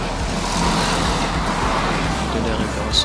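Traffic on a road near Palas, with a recent-model intercity bus passing among other vehicles, a steady broad engine and road rumble that stays loud throughout, heard without talk.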